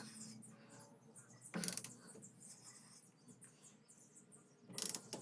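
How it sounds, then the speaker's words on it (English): A torque wrench clicks as it tightens the rear brake drum nut on a Subaru Justy: two short, loud ratcheting bursts stand out against a quiet garage background. "that's why we use a torquing wrench"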